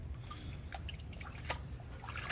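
Water trickling and dribbling inside an automatic washing machine as it fills to the brim and overflows, a soft steady flow with a low hum and a few brief splashes, faint and with no voices.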